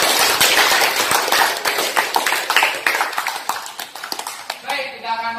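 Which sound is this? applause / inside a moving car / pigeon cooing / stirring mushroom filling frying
applause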